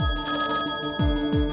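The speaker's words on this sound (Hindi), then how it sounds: "मैं फोन उठाने आई थी।" A telephone rings in a home in a Hindi television drama, its bell repeating in quick, steady bursts, loud and close, with no talk over it.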